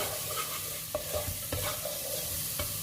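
Vegetables seasoned with salt are stirred in a pan for a chicken rice casserole, with steady scraping strokes under a soft sizzle and a few sharper utensil knocks near the pan.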